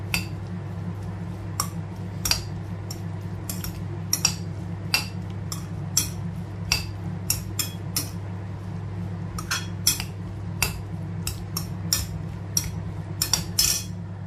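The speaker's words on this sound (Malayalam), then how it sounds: "നമുക്ക് എന്നിട്ട് നന്നായിട്ട് മിക്സ് ചെയ്ത് വയ്ക്കാം." Pineapple pickle ingredients being mixed in a bowl with a spoon, sharp metallic clinks and scrapes recurring in an irregular rhythm over a steady low hum, close by and without speech.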